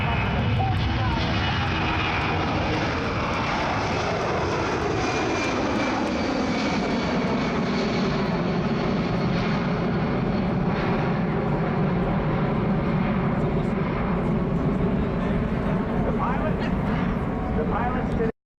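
A loud, steady roar of engines from two C-17 aircraft flying together overhead, the pitch slowly sliding downward as the planes fly by, with voices faintly mixed in.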